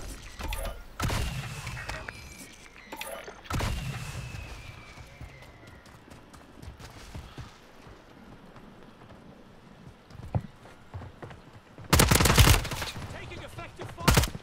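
Gunfire from the video game Call of Duty Warzone: scattered sharp shots and short bursts with quiet gaps between, ending in a loud cluster of rapid fire near the end.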